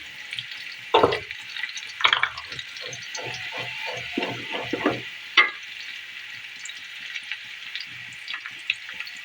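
Garam masala spices with nutmeg and mace frying in hot oil with onion for pulao, a steady broad sizzle with a few louder bursts as they are stirred, close and continuous.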